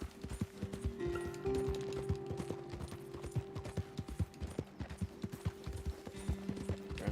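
A horse gallops in Red Dead Redemption 2, rapid rhythmic hoofbeats thudding close and loud over a low background tone, with a brief snort or whinny early on.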